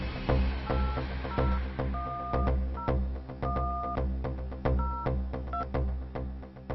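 Telephone keypad being dialed, a series of short two-tone DTMF beeps in an irregular rhythm, each paired with a sharp click, over a steady low background hum.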